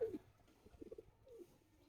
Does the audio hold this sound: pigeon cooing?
yes